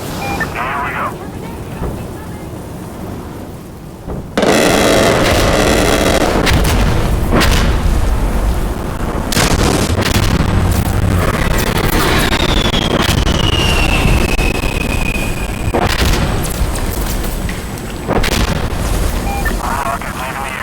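Airstrike rockets slam down in Insurgency: Sandstorm, a long run of loud, booming explosions and crackling blasts beginning about a quarter of the way in, with voices heard now and then amid the barrage.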